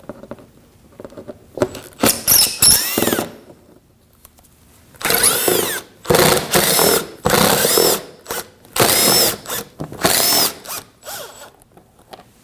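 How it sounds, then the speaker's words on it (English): A power drill on a 2015-2024 Ford Edge 2.0L removes panel screws during radiator and condenser fan assembly work, whirring in several close, loud bursts of a second or two with short pauses between. "We're going to remove the screws from those as well on either side."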